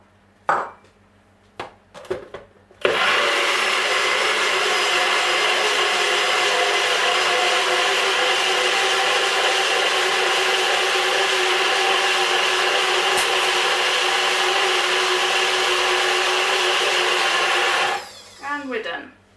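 Electric whisk beating peanut butter and banana protein muffin batter in a bowl, a loud steady whirring drone running unbroken for about fifteen seconds before cutting off, with brief clatter before and after.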